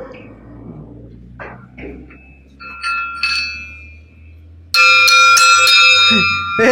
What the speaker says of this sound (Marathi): बेल वाजली, चला गेली.